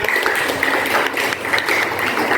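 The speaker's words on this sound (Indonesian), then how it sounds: "Beri tepuk tangan untuk Mbak Rika" Applause from a classroom or workshop group, a steady, dense patter of clapping hands throughout, fairly close and alone without talk.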